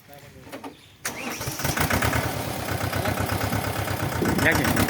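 A tractor used for rotavating and levelling a field fires up abruptly after a moment of quieter sound, then runs loudly with a steady, throbbing chug close by, and a voice speaks before it catches.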